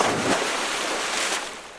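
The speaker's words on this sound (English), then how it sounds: "Splashing into the pool." Something jumps into a swimming pool, producing a loud, broad watery splash at the start that washes out into sustained spray and turbulence for under two seconds, with no voices.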